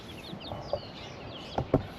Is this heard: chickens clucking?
yes